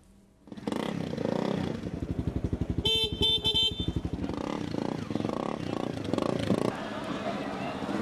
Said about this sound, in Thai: บีบแตรก่อนออกตัวซะด้วยนะคะ